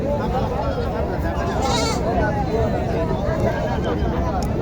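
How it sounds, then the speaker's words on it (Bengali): A goat bleats a few times close by at a livestock market, mixed with someone talking over outdoor background noise. "ধরো ছাগলটা দেখেছেন বাচ্চা দুটা দেখাই আমি আপনাদেরকে"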